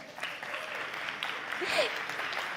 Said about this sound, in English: It's something worth applause, isn't it?